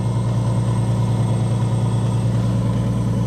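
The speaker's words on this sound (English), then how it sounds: "Hear the pump over on that side." The fuel pump of a Nissan 370z being fitted for track use runs as a steady, close, continuous electric hum with a low drone underneath, even and unbroken, with no one talking.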